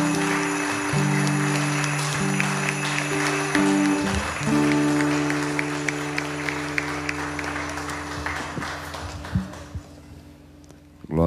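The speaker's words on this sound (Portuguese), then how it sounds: "Aplaudam ao Senhor." A church congregation claps together in a long steady burst of applause, close and dense, with music tones ringing underneath before the clapping thins out at the end.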